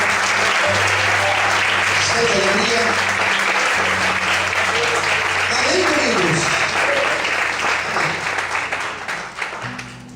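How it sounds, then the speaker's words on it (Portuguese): A church congregation applauds during a worship service, a broad sustained wash of clapping that tapers near the end, under a sung or spoken voice and sustained musical tones. "Você pode desocupar sua mão e aplaudir o Senhor?"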